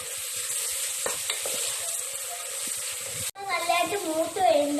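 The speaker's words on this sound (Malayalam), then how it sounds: "ഇഞ്ചിയും വെളുത്തുള്ളിയും ചതച്ച് വെച്ചതും പച്ചമുളക് ചതച്ച് വെച്ചതും കൂടെ ഇട്ട് കൊടുത്തിട്ട് അതിൻ്റെ പച്ചമണം മാറുന്നിടം വരെ നല്ലതായിട്ട് ഇളക്കി കൊടുക്കൊണ്ടേ" Crushed ginger, garlic and green chili sizzle in a pan for mutton curry while being stirred, with a close, steady frying hiss and scraping strokes. A voice talks briefly toward the end.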